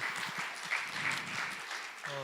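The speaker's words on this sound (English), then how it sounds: "Please welcome him with a warm round of applause." Audience applause welcoming a professor onto a stage at a Seoul forum, a steady broadband wash of many hands sustained for a couple of seconds, moderately loud and fairly close.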